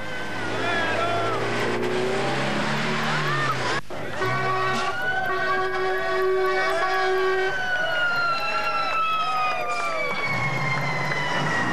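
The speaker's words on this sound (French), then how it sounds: "Quand les camions passent, c'est du délire dans le public qui ne se rend pas toujours compte du danger." Paris-Dakar rally trucks of 1985 roar past a crowd at the Cergy prologue, loud passing engines with sirens and honking over a continuous noisy crowd.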